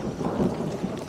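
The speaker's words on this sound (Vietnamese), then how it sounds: "Mưa luôn rồi." Steady rain with rolling thunder during a large jicama harvest in rural Vietnam, a dense continuous wash of rainfall with low rumbling throughout, no voices.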